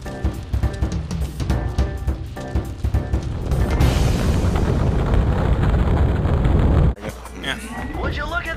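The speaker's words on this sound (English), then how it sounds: "Would you look at that? A fireworks show!" Fireworks show in the Sly Cooper and the Thievus Raccoonus video game: a dense run of loud booming bursts that swells into a sustained roar before cutting off, with people chatting over it early on.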